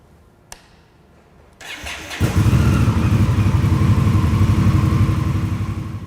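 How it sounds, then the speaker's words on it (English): An Indian Scout motorcycle engine restarts after an oil change. A brief click comes first, then the starter cranks and the engine catches, settling into a loud, steady, throbbing idle that stays close and unbroken with no talk over it. "we'll restart the bike and get it back up to temperature before we check the oil"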